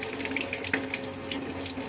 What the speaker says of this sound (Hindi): पानी इतना ही खोलना, कम पूरा नहीं खोलना